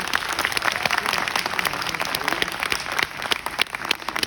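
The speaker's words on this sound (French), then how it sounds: "Allez, applaudissez pour vous." Loud, dense applause from a large audience, many hands clapping rapidly and continuously, close and full, with faint crowd murmur beneath and a slight dip in intensity toward the end.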